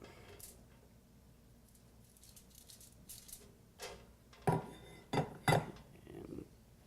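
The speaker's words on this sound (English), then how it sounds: "So I'm just going to spread it out on the sheet here." Oiled okra being spread across a foil-lined baking sheet, heard as soft crinkles and light taps that build into a few sharper, louder rustling knocks near the end, close up in a quiet room.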